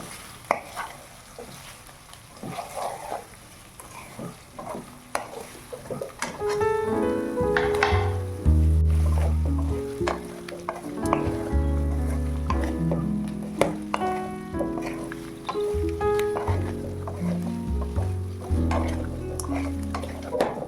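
Fried idli with salt being stirred in a pan, with steady scraping and stirring strokes over a light sizzle, joined partway through by background music carrying to the end.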